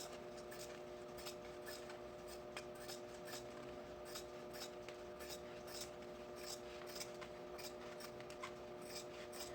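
Scissors repeatedly snip through excess fabric while a backpack is being sewn, the crisp cuts coming in a quick regular rhythm over a steady electrical hum.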